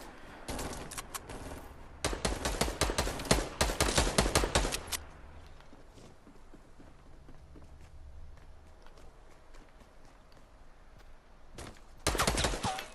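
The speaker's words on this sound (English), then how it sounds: "Oh, someone's shooting." Rapid bursts of gunfire crackle in Fortnite, two dense volleys of shots followed by a quieter stretch and another burst near the end, with no talk over them.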